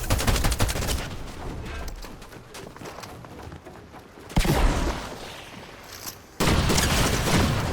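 Rapid bursts of laser gunfire in Fortnite crackle in loud, dense volleys, broken by short pauses before fresh rounds erupt.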